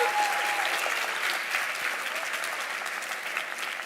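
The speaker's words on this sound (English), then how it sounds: "Guys, clap for your parents." A large audience in a high school graduation auditorium in Jeddah applauds parents, dense sustained clapping that fills the room and tapers slightly toward the end.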